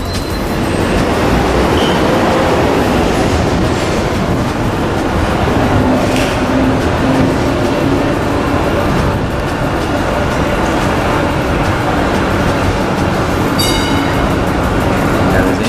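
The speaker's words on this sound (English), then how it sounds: "hold it outside above a busy street in the city with this kind of racket going on in the background" Loud, continuous city street traffic racket recorded from the town hall balcony above a busy Melbourne street, with rumbling vehicles, a few screeching tones and a bright squeal near the end, steady throughout.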